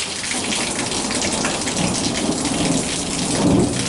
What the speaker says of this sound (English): Hear the thunder?